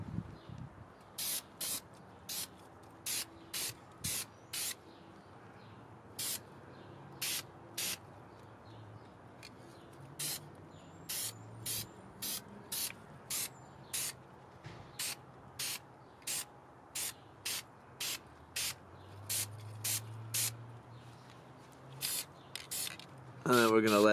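Short repeated bursts of an aerosol spray can painting brake calipers, about two dozen quick hisses spaced through the stretch, with a low murmur of voices underneath.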